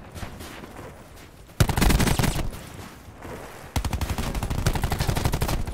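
Rapid automatic gunfire in the Black Ops 4 video game, loud close bursts of quick repeated shots in two long strings separated by a quieter pause.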